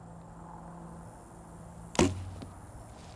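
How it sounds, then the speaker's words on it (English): A single arrow is shot from a 64-inch PMA traditional bow with one sharp, quiet release snap that fades quickly, set against a calm, low background. "Wow, that arrow flew really good."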